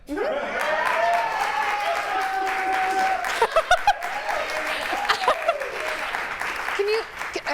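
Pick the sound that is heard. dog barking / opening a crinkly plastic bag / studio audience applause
studio audience applause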